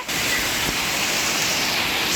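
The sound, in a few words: hail and heavy rain falling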